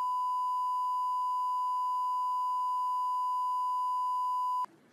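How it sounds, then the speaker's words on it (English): A steady pure censor bleep tone used to redact a spoken home address holds loud and unbroken for several seconds, then cuts off abruptly into faint room noise. "that's where we bleeped his address"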